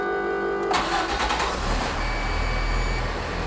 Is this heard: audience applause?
no